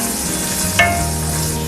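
Onions and shallots sizzle in a pan for tender coconut chicken, a brief burst of frying with a scrape of stirring partway through.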